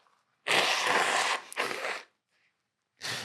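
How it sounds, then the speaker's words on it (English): A person blows their nose in two strong, close, breathy honks, then after a pause a third shorter blow, with no talking. "I need to blow my nose."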